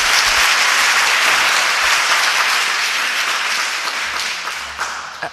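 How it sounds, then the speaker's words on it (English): Audience applause fills a legislative oversight committee hearing room, a dense, loud wash of clapping that holds steady before thinning slightly toward the end. "I would ask you again to hold your applause."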